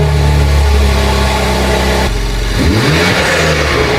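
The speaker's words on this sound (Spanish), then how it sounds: "El filtro de aire deportivo afecta ligeramente el sonido del coche, añadiendo una pequeña mejora al ruido de admisión." A BMW M3 Competition fitted with a sport air filter revs hard, the engine climbing and holding a loud rising tone before dropping back with deep warbling intake growl, close and alone.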